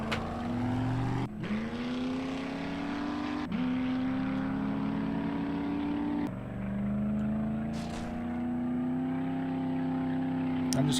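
A gyrocopter engine flying in the video game 7 Days to Die, a steady loud droning hum with rising and falling pitch, continuous throughout with brief dips, and no talking.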